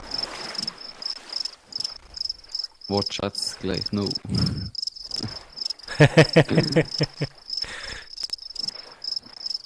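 Crickets chirp steadily in the video game The Forest, a continuous high-pitched trill running under a person talking in bursts and a few louder game noises.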